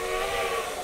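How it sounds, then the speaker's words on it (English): Steam locomotive whistle from a Denver & Rio Grande Western K-36 narrow-gauge engine in the Cumbres and Toltec variant in Trainz Railroad Simulator 2019, a loud sustained breathy chord heard alone. "Different whistle."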